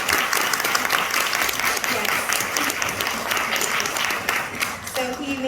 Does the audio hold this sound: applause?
yes